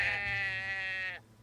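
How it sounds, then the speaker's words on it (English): A sheep in the RPG Drova gives one sustained, wavering bleat lasting about a second, clear and close, then it cuts off abruptly. "I bought the sheep from Garion at rock bottom price. I'm gonna run a sheep farm"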